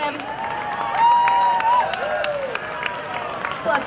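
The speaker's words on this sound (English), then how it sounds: "Loud round of applause here for him." Spectators applauding and cheering as a fireman in full gear finishes a 5K run outdoors, a brief swell of clapping and crowd noise under a loud announcer's voice, with a whistle-like tone in the middle.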